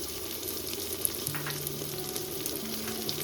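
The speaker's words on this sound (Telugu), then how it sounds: "ఇవన్నీ చక్కగా నూనెలో వేయాలి" Spices and chili powder sizzle and crackle steadily in hot oil while cooking kushka rice, a close, continuous frying hiss with small pops and no voices.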